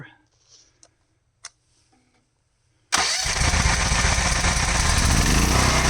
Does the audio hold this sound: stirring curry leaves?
no